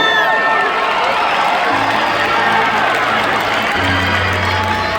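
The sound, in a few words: crowd cheering for graduates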